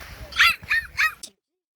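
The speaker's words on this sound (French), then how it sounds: "Vous pouvez pas l'appeler les chiens." Dogs bark three times in quick succession at close range, loud, sharp and evenly spaced, then cut off abruptly with no talk over them.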